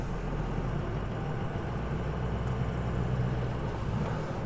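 A 2005 Ford Excursion Limited with a 6.0L Powerstroke diesel and 4WD on a lifted setup drives along, giving a steady low engine rumble and road noise that holds throughout with no talking.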